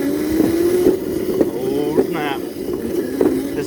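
An upgraded CrazyCart electric drift kart on a dirt road, giving a steady motor whine with rattles and bumps from the rough surface, close and loud, with a voice speaking over it briefly.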